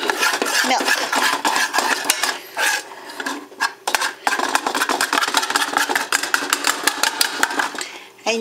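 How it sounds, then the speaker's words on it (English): A flour and milk mixture is stirred into a pot of apple and peach cream pie filling, with a steady scraping and clinking of a utensil against the metal pot, loud and close, in continuous strokes with short breaks. "You stir the flour mixture."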